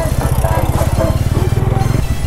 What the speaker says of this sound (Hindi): exhaust note guys